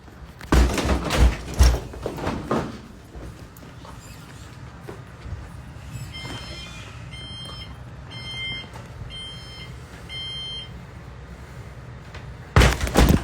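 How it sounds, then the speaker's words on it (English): A door is kicked hard several times in a burst of loud heavy thuds, then an electronic beeping pattern sounds, before another cluster of forceful bangs near the end. "Why are you kicking my door?"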